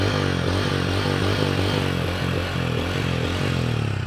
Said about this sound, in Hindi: थ्रॉटल देता हूँ अब मैं।